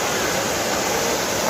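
Constant roaring wash of mountain water cascading at Bhagsunag waterfall, a loud unbroken rush filling the moment.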